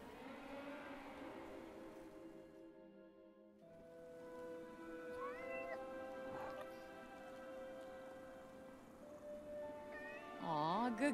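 Meowing from a cat with one blue and one green eye in the video game Forspoken: high, rising-and-falling cries in the middle and a stronger cluster at the end, over a steady game music bed.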